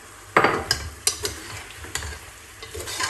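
Fresh tomato going into a hot frying pan, with a soft sizzle and several scraping stirs of a utensil against the pan in uneven bursts, close and fairly quiet.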